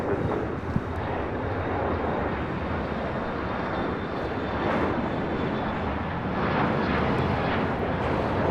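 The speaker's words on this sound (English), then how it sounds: "This Global 7500 is taking off to Boston with VistaJet 785." A Bombardier Global 7500 business jet of VistaJet takes off at LAX, its engines giving a steady, loud, broad roar that holds throughout and swells slightly near the end, with some wind buffeting on the microphone.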